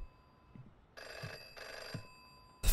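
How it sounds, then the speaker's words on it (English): A telephone in the horror video game FM rings in two clear, evenly spaced bursts, a bright bell-like trill standing alone over a faint low background. "The phone's going again."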